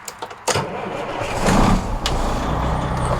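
A Ford CLT9000 cabover truck engine cranks with a few clicks and a starter whir, then catches and rises into a loud, steady running rumble close by.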